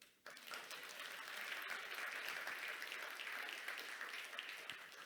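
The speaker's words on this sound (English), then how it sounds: "You can clap." Sustained audience applause at a seasteading showcase event, a dense, steady wash of many hands clapping that starts abruptly and holds at full strength throughout, with no speech over it.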